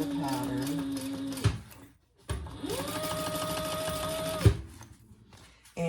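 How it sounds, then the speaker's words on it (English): A sewing machine whirs through two long stitching runs joining bag pieces at the seam allowance, with a brief pause between bursts and a short stop at the end. A voice talks quietly underneath. "we're going to sew those together at the top at the seam allowance in the pattern"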